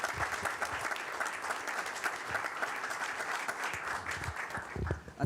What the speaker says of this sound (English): Thank you for the applause to the audience there.